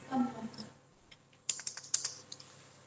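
Keys clack on a computer keyboard during data entry in Tally accounting software, a cluster of sharp, close taps ending in firm presses, preceded by a brief moment of a voice.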